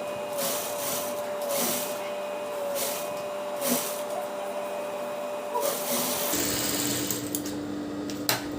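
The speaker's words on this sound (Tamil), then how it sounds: "அப்படியே எது வரைக்கும் வருதோ பார்த்து அங்கேருந்து நம்ம தைக்க ஆரம்பிக்கலாம்." A sewing machine stitches a T-shirt being converted from a chudidar, its motor whirring steadily and close with a fast, even needle rhythm that shifts pitch slightly near the end.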